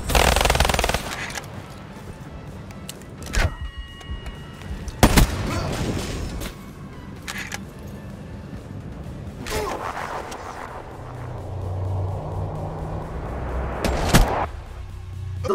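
Gunfire from a Black Ops 3 trickshot on the Awakening DLC map Skyrise, with several sharp shots and bursts spread across the stretch amid game ambience and a low rumble.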